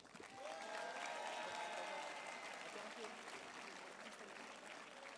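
Applause from a gala audience for the school staff revue, sustained clapping from a large crowd with some cheering, steady and full but somewhat distant in a hall, with voices faintly mixed in.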